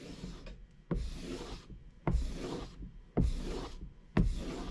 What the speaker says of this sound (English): as you hit the strop, you're just kind of really finishing it off, getting any burrs out of it